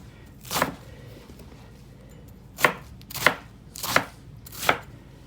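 Five crisp knife chops through washed iceberg lettuce on a cutting board: one lone cut, a pause, then four evenly spaced strokes, close and clear in a quiet kitchen lab.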